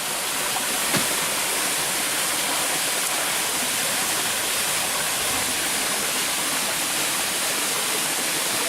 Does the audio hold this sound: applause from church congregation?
no